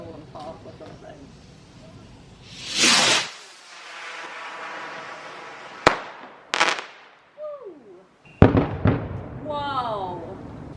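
A small home fireworks display on Fireworks Night at an old English townhouse: a loud hissing rush, then sharp isolated bangs, crackling pops and a few whistling rockets that rise and fade, moderately close.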